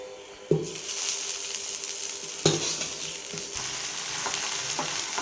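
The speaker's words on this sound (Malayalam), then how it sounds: "ഇനി ഇതിലേക്ക് നമ്മൾ വേവിച്ച് വെച്ചിരിക്കുന്ന കപ്പ ചേർക്കാം." Cooked tapioca (kappa) hits a hot pan and is stir-fried, with a steady sizzle and two sharp clanks of a spoon against the pan followed by scraping and stirring noises.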